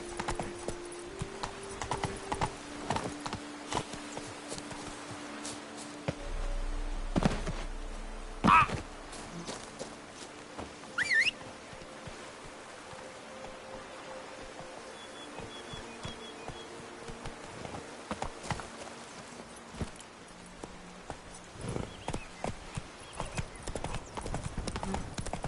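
Roach, the horse in The Witcher 3, trots along with steady rhythmic hoof clip-clops throughout, accompanied by faint buzzing insect ambience and occasional soft game sounds in the background.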